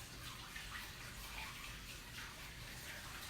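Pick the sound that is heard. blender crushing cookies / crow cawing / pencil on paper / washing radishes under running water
washing radishes under running water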